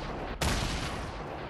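Dense, continuous gunfire in Fortnite: Battle Royale fills the clip, a loud crackling barrage with a sharp burst near the start.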